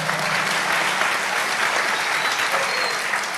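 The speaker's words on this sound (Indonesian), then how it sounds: "tepuk tangan dong." Crowd applause at a religious gathering, a steady, loud wash of many hands clapping at once that holds evenly throughout with no voices over it.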